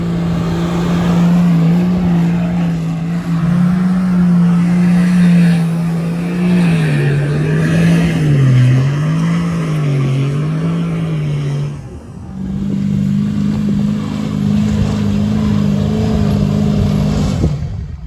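A big 4WD engine revs in second gear while climbing large, soft desert dunes in the Simpson Desert, a loud, close, steady drone that wavers in pitch, drops briefly, then resumes at a higher pitch.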